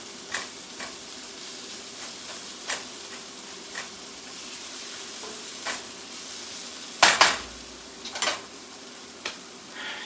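Spicy shrimp curry frying in a pan, a quiet, steady sizzle with scattered stirring clicks and one sharp clatter of a utensil partway through.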